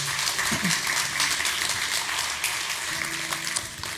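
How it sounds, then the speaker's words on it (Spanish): Church congregation applauding at the close of a Spanish-language service, a dense, steady patter of many hands that fades slightly toward the end. "Vamos a dar un aplauso, mis hermanos, a esa persona"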